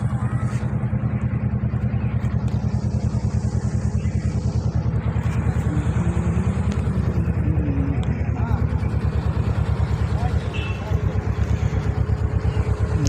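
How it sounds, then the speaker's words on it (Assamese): A motor boat pushes upstream against a river's reverse current, its steady low engine drone close and continuous throughout under a wash of water and outdoor noise. "চাওক মেচিন বোট এটা আহিল উল্টা ধাৰত"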